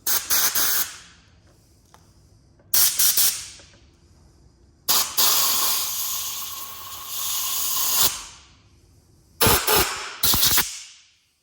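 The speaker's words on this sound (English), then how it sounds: "I'm going to spray into this inner jet and kind of clean this up" Several loud hissing bursts of aerosol cleaner sprayed into the carburetor jet of a Yamaha Blaster, some brief and one long sustained blast of several seconds, with quiet gaps between them.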